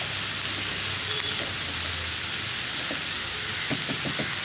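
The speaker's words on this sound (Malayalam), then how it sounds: "ഉപ്പ് ചേർത്ത് നന്നായിട്ട് സവോള വഴറ്റിയെടുക്കുക" Onions sautéing with salt in a pan, a steady close sizzle and crackle running throughout, with a few light stirring clinks near the end.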